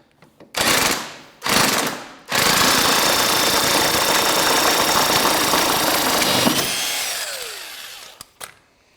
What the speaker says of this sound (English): using the impact makes that job a lot easier